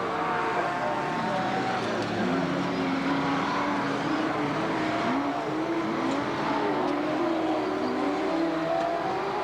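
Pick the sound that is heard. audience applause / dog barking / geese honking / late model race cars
late model race cars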